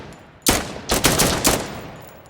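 A gun fires in a quick burst: one sharp shot, then a short volley of three or four rapid reports with brief echo tails, loud and close.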